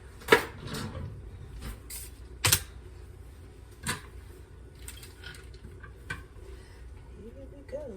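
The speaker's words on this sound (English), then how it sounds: "Get my knife out." A kitchen drawer is rattled open and a knife pulled out while brownies are being made, giving several sharp metallic clacks and clinks spread over a few seconds, close by, with a voice speaking briefly toward the end.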